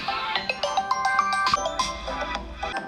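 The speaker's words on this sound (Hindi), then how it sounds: "किसका फोन है" A phone ringtone plays a bright, repeating melodic tune of quick plucked-sounding notes, loud and close, with a low hum joining toward the end.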